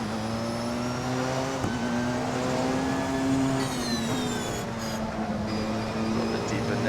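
Porsche 919 race car engine in Assetto Corsa, a steady high-pitched whine held at speed with a brief shift near the middle, continuous and moderately loud with no talk.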